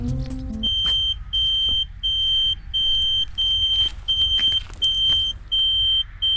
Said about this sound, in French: donc je vais faire sonner la moto